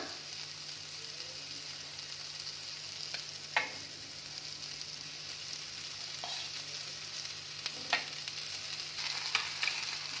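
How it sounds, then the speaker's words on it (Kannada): Cooked rice tipped into a pan of capsicum masala seasoned with vangibath powder and stirred, giving a steady soft sizzle with a few scraping clicks of the spatula, close and alone with no talking. "ಇದಕ್ಕೇನೆ ನಾವು ಇವಾಗ ಮಾಡಿರೋ ಅನ್ನ ಹಾಕ್ಕೊಳ್ಳೋಣ"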